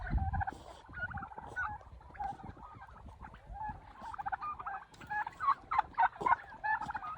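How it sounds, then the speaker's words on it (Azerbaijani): Grey and Stavropol turkeys on a farm gobble repeatedly, a flock of overlapping calls at moderate distance with bursts growing louder and busier toward the end. "Bu da stavropol hinduşkamız, bu tək qalıb."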